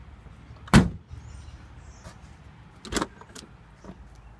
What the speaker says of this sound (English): All the doors open and close, very nice.